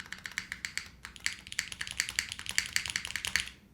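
Rapid clicky keystrokes on a HEX4B mechanical keyboard tapping in uneven bursts, crisp and close, with a brief pause near the start and no talking.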